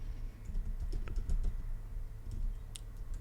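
Fast typing on a computer keyboard, a quick uneven run of light key clicks over a low background hum.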